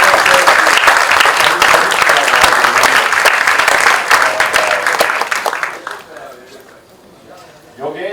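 Loud, dense applause at a film trailer launch for Durlabh Prasad Ki Dusri Shadi rolls on for several seconds, then fades, and a voice starts speaking near the end.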